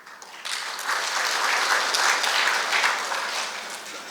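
Audience applause at a Tamil spiritual and literary talk, a dense steady clapping from a crowd that swells in after a brief quiet start and holds evenly throughout.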